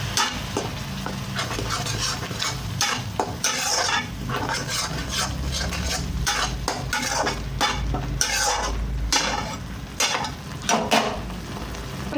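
Prawns and young jackfruit fry in a pan as tomato paste is stirred in, producing a loud, dense sizzle with continual scraping and clattering of the utensil against the pan.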